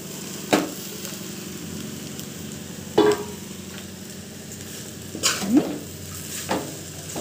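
Boiled Maggi noodles are tossed into a pan and stirred as they fry, giving a constant sizzle broken by several sharp clanks of a spatula against the metal pan.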